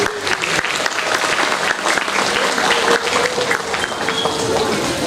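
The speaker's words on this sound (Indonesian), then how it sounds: "Biasa tepuk tangan Bapak Ibu." Audience applause at an Islamic religious gathering (tabligh akbar) at a madrasah school, a steady, dense wash of many hands clapping that holds evenly throughout.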